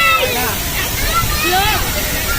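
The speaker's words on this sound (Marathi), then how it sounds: "पाण्याचा फवारा बघू शकतो आपण" A park water fountain in Navi Mumbai sprays with a steady, broad rushing hiss, heard beneath loud overlapping voices of people talking nearby throughout.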